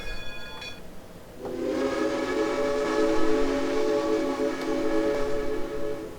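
Steam locomotive, a WVRR 2-8-2 in the Trainz 2019 simulator, with a brief chiming whistle at the start, then a sustained loud multi-tone whistle over steady running noise.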